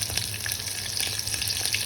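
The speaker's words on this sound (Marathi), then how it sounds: "तर मिरच्या अशा छान तडतडू द्यायच्या" Green chillies sizzle and crackle in hot oil in a pan, a steady close frying hiss with small pops, cooked for a fasting-day amti dish, with no one talking.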